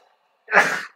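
A single sharp sneeze bursts out loud and close after a moment of near silence, trailing off quickly.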